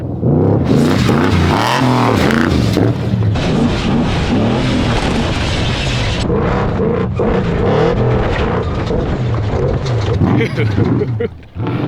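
Lifted trucks rev and rip around near Lake Havasu over a Memorial Day weekend, their engines roaring loudly and continuously with surging revs. Voices talk over the near, heavy engine noise.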